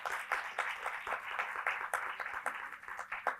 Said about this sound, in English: please give a very big applause to all these aspiring young women